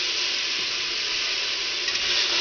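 Garlic sizzling in a hot pot as the base of a cabbage soup, a loud, even, hissing fry that holds steady for a couple of seconds without any talk.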